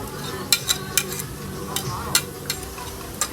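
A utensil stirs garlic frying in a pan for butter shrimp, making soft sizzling with sharp metallic scrapes and clinks every half second or so, heard close.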